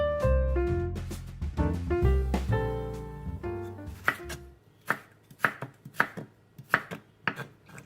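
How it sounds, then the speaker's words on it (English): Knife chopping carrots into julienne strips for Vietnamese carrot and daikon pickles: a run of crisp, close cuts on a board, landing as separate sharp knocks in a loose, uneven rhythm. No one speaks. "Cut carrots in julienne strips."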